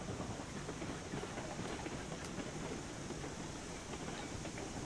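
Train running in a video game, a steady broadband rumble with faint clickety-clack texture holding at one level throughout, alone without any voices.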